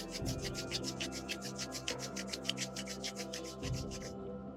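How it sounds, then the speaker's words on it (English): Palms rub briskly together to build heat during a yoga routine, making a close, soft, rhythmic swishing that repeats steadily before stopping near the end. "start rubbing the palms to create heat in the palms"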